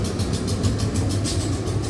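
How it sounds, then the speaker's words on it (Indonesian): Trains rumble steadily at a railway station, a continuous low mechanical drone with faint rhythmic clacking, fairly loud and without talk. "Oh, banyak kereta api."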